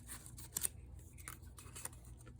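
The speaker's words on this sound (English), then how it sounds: "I'm going to cut into the centre there, and then all I'm going to do is going to cut round" Scissors snip through a printable paper sheet in a few faint, quick cuts at close range, with no talking.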